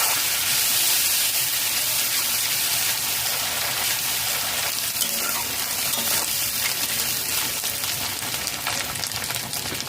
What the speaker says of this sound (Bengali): তিন মিনিট ভেজে নিয়েছি লো টু মিডিয়াম ফ্লেমে